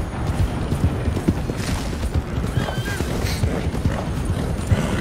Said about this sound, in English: Horse is like dilly-dallying, running zig and zags.